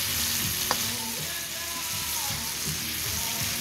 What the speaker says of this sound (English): now we're going to let that fry a little